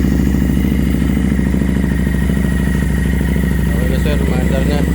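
Harley-Davidson Street 750 motorcycle engine, just restarted after spark plug trouble, running at a steady close idle with a rhythmic throb and clatter while someone talks over it.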